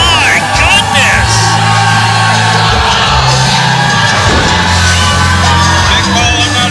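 Oroville wrestling audience yelling and chanting insults at a bald wrestler, a sustained, loud wall of shouts and whoops rising in waves and never letting up.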